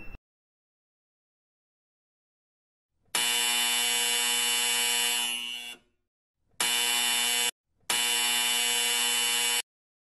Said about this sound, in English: when the person enter inside the room, that time the PR sensor detects a motion. That time the buzzer buzz